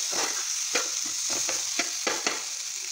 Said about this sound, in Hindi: इसको अब हमें अच्छे से मिक्स कर देना है